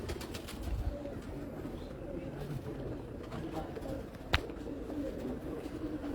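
A low, throaty pigeon cooing rolls on steadily from a rooftop loft in Hafizabad, with a sharp click or knock standing out briefly near the end and voices around.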